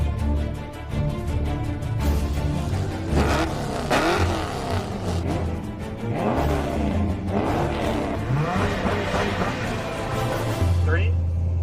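A Ford Ranchero and another car roar through a heads-up race, with engines revving hard and rising and falling through the gears. People talk over the steady, loud engine noise.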